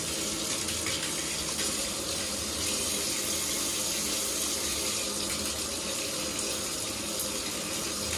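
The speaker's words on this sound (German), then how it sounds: "ich mische hier mal Kaltwasser noch mit bei" Tap water gushes steadily from a faucet as cold water is mixed into very hot, a loud, even hiss and splash that runs unbroken from start to finish.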